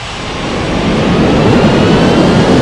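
Jet aircraft in a mobile air traffic control game set at an island airport roar steadily, a loud broad engine rush that builds slightly then holds.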